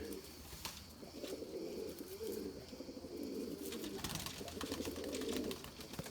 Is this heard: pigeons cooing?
yes